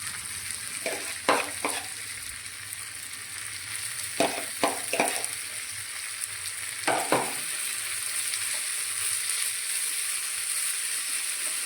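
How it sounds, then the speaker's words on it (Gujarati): Grated fresh turmeric fries in hot ghee with a steady soft sizzle, broken by several sharp scraping stirs of a spoon in the pan, close and moderately quiet with no talk. "ઘી ગરમ થઈ ગયું છે, તેમાં આપણે આ ખમણેલી હળદર ઉમેરી દઈશું"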